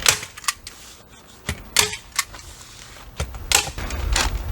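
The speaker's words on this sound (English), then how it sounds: "I'm going to go ahead and put a few staples around this window" A staple gun fastens house wrap around a window, firing a quick irregular series of sharp, close snapping clicks, about a dozen over several seconds.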